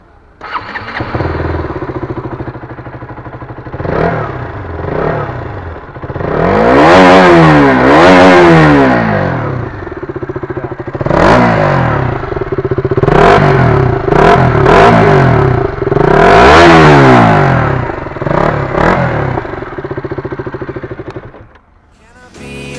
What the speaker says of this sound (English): Now let's switch to the Duke 200 exhaust.